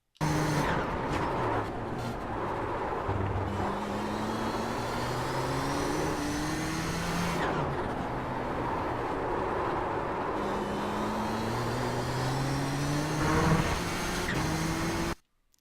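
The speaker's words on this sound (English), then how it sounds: "let's play through both 9 and 10 here, and also kind of listen to the tires going through these sections of corners" A Nissan GTP ZX-T race car in the iRacing simulator runs through corners at Zandvoort, its engine droning steadily with rising and falling pitch sweeps and continuous tire noise, loud and with no talking.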